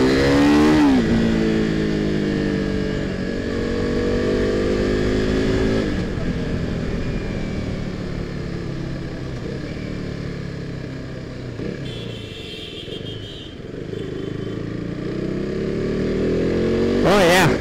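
A KTM RC 390 motorcycle rides fast through city traffic, its single-cylinder engine revving up and down loudly and close, with rising and falling pitch through gear changes and wind rush.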